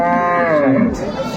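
A cow at a cattle market, where cows and calves are on sale, gives one long, loud, close moo that rises and falls in pitch, with no talking.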